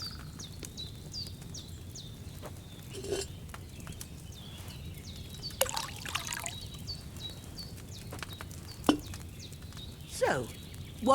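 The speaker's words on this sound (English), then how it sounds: "So, what did you pour in there? Wine, of course." Wine is poured from a pitcher into a cauldron in the video game Kingdom Come: Deliverance II, a soft, steady trickle heard faintly over ambient birdsong with a few clinks.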